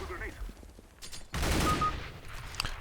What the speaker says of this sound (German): schießen wir noch schnell durch den Smoke